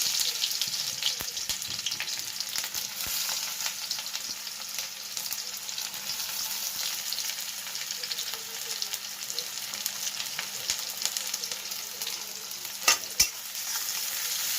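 Chopped onion frying with a pinch of cumin in a pan for egg noodles, a continuous bright crackling sizzle with intermittent utensil scrapes and a couple of sharp knocks near the end, no speech.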